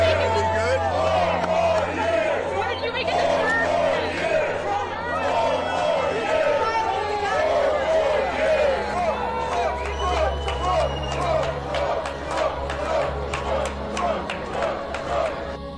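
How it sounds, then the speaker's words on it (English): A crowd at a Harlem bodega chanting and cheering for Trump, a dense roar of many voices with rhythmic shouted chant bursts, loud and close. "Trump's staff might have instigated these chants among the crowd"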